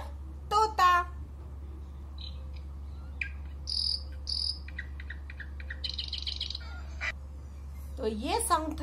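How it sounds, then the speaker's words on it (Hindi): Bulbul bird song: short chirps and whistled notes scattered across several seconds, some bright and high, with a steady low hum underneath and a voice-like sweep near the end. "तो ये सॉन्ग था हमारी प्यारी बुलबुल का।"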